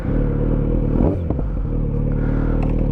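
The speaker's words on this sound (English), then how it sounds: "Not exactly sure how it's going to sound with the exhaust through the speaker and the helmet" Kawasaki Z900RS motorcycle with an Akrapovic exhaust under way, a loud steady deep engine drone with a brief throttle change and some clatter, as heard from the rider.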